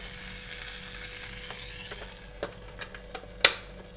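A buttered roti wrap toasting in a pan gives a faint, steady sizzle, broken near the end by a few soft ticks and one sharp clack, probably a utensil against the pan.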